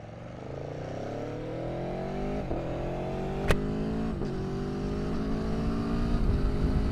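Aprilia Tuono 1100 Factory motorcycle engine braking while descending a hill, its engine note winding steadily down with overrun pops and burbles over loud wind rush, no voices.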